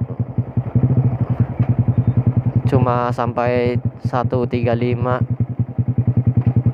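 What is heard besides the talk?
modified Yamaha R15 V2 motorcycle riding at top speed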